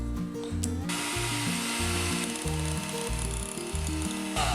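An electric hand beater whips fresh cream in a bowl, a loud close motor whir with a rhythmic, pulsing mechanical rattle as the beaters churn.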